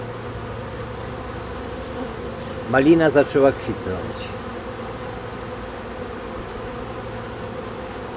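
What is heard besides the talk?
bees buzzing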